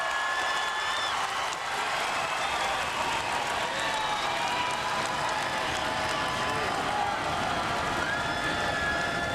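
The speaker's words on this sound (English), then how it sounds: "This crowd really coming to life now at War Memorial Gym." A college basketball arena crowd at War Memorial Gym roars steadily during a Gonzaga at USF game, a loud, dense wash of cheering and noise with faint whistles, no pause throughout.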